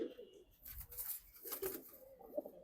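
Pigeons in a home loft in Hazaribagh, Dhaka, cooing softly in a few low, rounded bursts at close range, with faint rustling and movement between calls.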